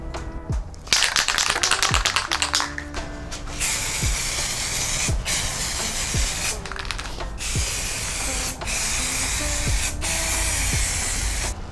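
Repeated bursts of aerosol spray from a can of MTN wrinkle black paint coating engine parts for a 2GR Celica swap, steady close hiss broken by brief pauses between passes.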